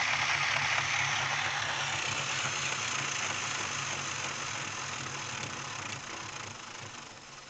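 A small model train locomotive motor controlled by a WiFi remote runs with a steady close whirring and gear rattle, a continuous mechanical buzz that eases off slightly toward the end.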